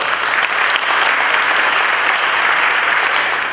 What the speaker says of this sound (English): A round of applause for our young friends.